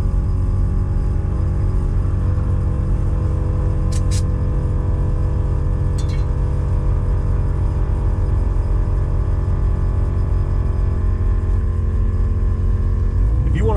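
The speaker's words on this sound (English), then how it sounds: "we're gonna put a little air in the front. Hear the compressor kick in." An air compressor in a 1964 Ford Galaxie 500 XL hardtop runs as a loud, steady low drone and hum with a constant pulse, close up, with a couple of faint clicks partway through.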